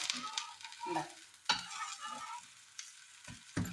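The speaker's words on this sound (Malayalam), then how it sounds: "നമ്മളിതൊന്ന് മറിച്ചിടുന്നുണ്ട് കേട്ടോ" A whole moong dal chila fries on a hot pan, giving a soft, steady sizzle broken by several spatula scrapes and knocks as it is turned over, close and without talk.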